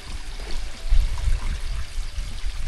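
Water pouring and trickling from a monsoon-fed mountain stream while bottles are filled on a Sahyadri trek, a steady close splashing flow with low rumble and no talk.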